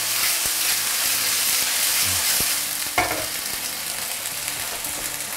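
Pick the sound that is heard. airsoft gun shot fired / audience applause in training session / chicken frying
chicken frying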